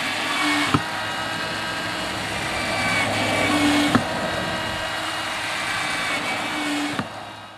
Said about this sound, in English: We're going to drill holes along the top here again, just to let air coming in through the top.